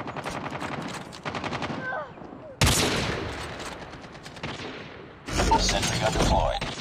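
Rapid bursts of gunfire from a ranked multiplayer video game match, with loud volleys crackling on and off and intensifying near the end, while a voice calls out over the shooting.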